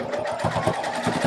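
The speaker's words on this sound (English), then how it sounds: "I'm sewing on the piping." A sewing machine stitches piping onto a cross-back apron, its needle running in a fast, steady mechanical chatter at close range for the whole short stretch, with no speech over it.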